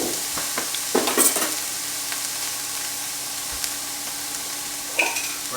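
Meatball ingredients sweat gently in a pan, a soft, steady sizzle with a few sharp clinks and scrapes of a utensil against the pan, near and fairly loud, with no one talking.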